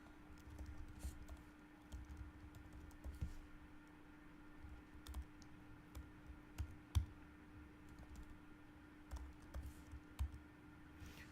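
Code being typed on a computer keyboard, soft scattered key taps in irregular bursts over a low steady hum, quiet and close with no talking.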